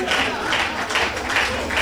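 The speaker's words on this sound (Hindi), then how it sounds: "तालियां ऐसे ही बजाते रहो" An audience applauds at a Hindi poetry recital at a kavi sammelan, steady sustained clapping washing through a hall in gentle surges.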